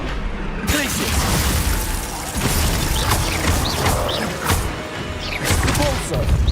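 Glacius freezing spell cast in the Hogwarts Legacy video game, a burst of crashing, shattering impacts amid dense battle noise with thuds and magical effects, loud and continuous, with a voice shouting over it.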